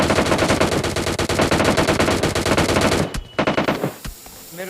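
Rapid automatic gunfire in PUBG Mobile Lite, loud sustained bursts of machine-gun fire for about three seconds, then a few scattered shots and quieter trailing sounds.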